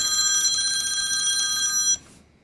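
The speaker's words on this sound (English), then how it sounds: "if anyone's got a phone, please put it on silent." A phone rings with a steady, bright electronic trill in a council meeting chamber, cutting off abruptly after about two seconds over faint room noise.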